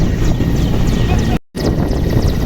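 Large Pakistan Army rescue helicopter landing during a 2022 flood airlift, a steady loud rotor and engine roar filling the scene with a brief dropout midway.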